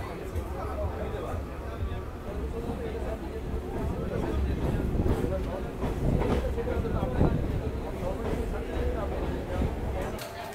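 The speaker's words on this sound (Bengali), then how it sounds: "আমাদের ট্রেনের স্পিড দেখে নাও, 80 কিলোমিটার/আওয়ারে ট্রেন চলছে। ধীরে ধীরে স্লো হচ্ছে" A local train runs at about 80 km/h and gradually slows, its steady rumble and rattling wheels filling the carriage under a person's continuous talk.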